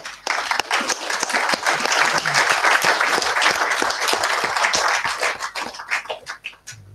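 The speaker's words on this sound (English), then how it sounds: "It must be applauded." Audience in a room at a silent retreat session breaks into sustained applause, many hands clapping densely and steadily for several seconds before thinning out toward the end.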